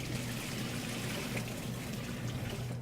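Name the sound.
pouring water into dough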